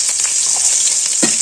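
Chopped green chilli and onion fry in oil in a pan for fish curry, giving a close, steady sizzle with a light stirring scrape near the end.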